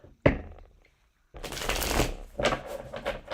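A deck of tarot cards is riffled and shuffled close by: a sharp snap, a pause, then a longer crisp flurry of cards with a second burst near the end.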